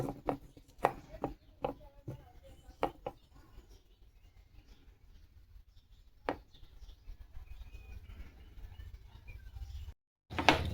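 Boiled egg is chopped finely on a board for a German Shepherd: a quick run of sharp, close knife taps, then a pause with faint room noise and one more tap.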